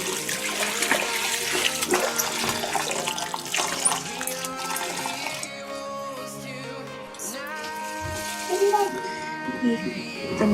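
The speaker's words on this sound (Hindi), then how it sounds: "अब ये इसमें दोबारा पानी डालेंगे।" Water poured over dried coriander seeds in a strainer to rinse out sand and grit, a steady splashing rush with clattering that runs throughout and grows a little louder near the end.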